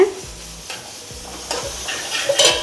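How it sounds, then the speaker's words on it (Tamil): Cashew nuts roast in a pan for sweet pongal and payasam, stirred with a scraping utensil over a soft sizzle, with a few clinks and louder scrapes near the end, no talk. "சக்கரை பொங்கல் பாயாசம் ரெண்டுத்துக்குமே சேர்த்தே நான் முந்திரி பருப்பு வறுத்துறேங்க."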